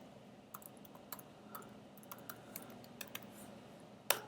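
Typing on a computer keyboard, with light scattered key taps at an irregular pace and one sharper, louder click near the end over a faint steady background hum.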